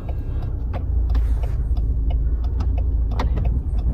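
A learner driver's car revs and accelerates as the clutch is let out, giving a steady, loud engine rumble that holds through the whole stretch, with brief clicks and knocks on top.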